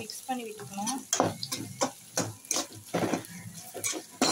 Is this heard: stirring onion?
yes